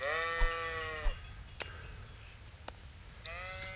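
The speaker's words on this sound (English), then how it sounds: "Yeah, I can't kill the sheep." Sheep bleat in the medieval role-playing video game Kingdom Come: Deliverance, with two wavering bleats at the start and end over a low ambient outdoor bed and a few soft clicks.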